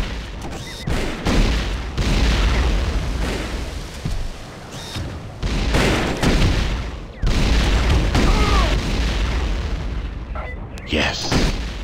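Plasma rifle fire in a retro-styled T2 video game, repeated heavy bursts with booming blasts in uneven volleys separated by short gaps, loud and close, with a voice talking over it.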